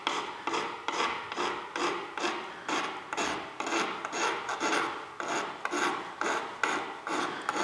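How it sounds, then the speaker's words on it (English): A hand file rasping paint off an old Victorian wooden door, in steady rhythmic strokes about once a second, close and distinct with no voices. "I'm just going really gentle with this file."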